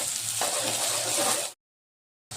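Onion frying in a pan with salt makes a steady, close sizzle for about a second and a half, then cuts to silence before the sizzle briefly returns, with no talking.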